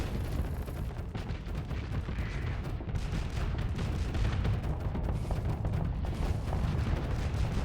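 A warship in the space game Starsector pounding away with Type 3 shells, a steady, dense stream of booming cannon fire and explosions rumbling continuously without pause.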